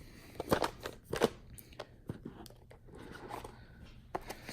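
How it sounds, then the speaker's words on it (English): TWS i10 earbuds packaging being opened up close: a few sharp crackles and crunches of plastic and cardboard early on, then scattered rustling and handling noises, without speech. "So let's open this up."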